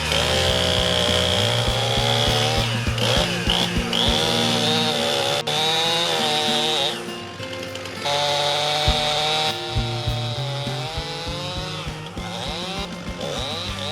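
Chainsaw cutting wood during logging work, a loud continuous buzzing whine with pitch dips and surges as the blade bites, heard close and steady throughout with no talk.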